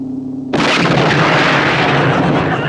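Explosions from the action film The New Barbarians: after a brief quiet start, a sudden loud blast erupts into a sustained, roaring rumble that fills the rest of the clip without letting up.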